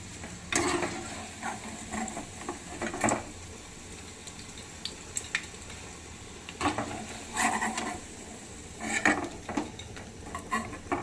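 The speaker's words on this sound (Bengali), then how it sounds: "এভাবে আমি বাকি পকোড়াগুলোকে ভেজে নিচ্ছি।" Cauliflower pakoras frying in oil, with a soft background sizzle broken by intermittent clinks and stirring scrapes of a utensil against the pan, fairly quiet and close.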